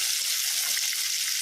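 KFC-style chicken pieces deep frying in hot oil, a dense, even hiss of bubbling oil close up, steady throughout with no voices.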